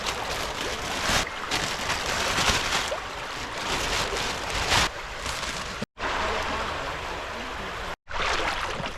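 Water flowing in a creek as someone wades in to clean out trash, a steady close rushing wash with a few brief dropouts.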